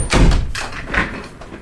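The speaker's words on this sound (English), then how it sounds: "Let me open the studio door." A studio door swung open at home, giving a short, close wooden thunk and creak with a few softer knocks trailing off over under two seconds.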